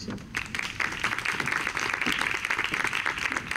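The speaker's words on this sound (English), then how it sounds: "Round of applause for Corey Paz and Jesus." Audience applause at a storytelling event, moderate continuous clapping from a mid-sized crowd, somewhat distant.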